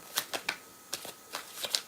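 Tarot cards being shuffled by hand during a reading, heard as a quiet series of soft, papery riffling bursts spaced unevenly, close by, with no talking.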